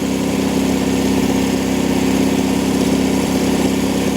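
Engine of a 1983 Toyota barn find, abandoned for 15 years, running steadily at idle with a constant low rumble, loud and close throughout, and no talking.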